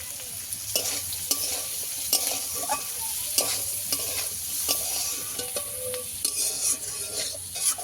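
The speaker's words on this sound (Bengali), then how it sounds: "ভালো করে সবগুলো ভালো করে ভেজে নিতে হবে" Winter vegetables with turmeric sizzle steadily in a hot pan while a utensil scrapes and stirs through them in repeated strokes, close up, with no voices.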